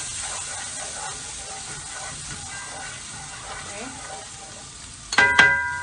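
Turmeric, salt and pepper being stirred into a hot pan, giving a soft continuous sizzle with faint scraping, then a louder clatter of utensil on pan near the end.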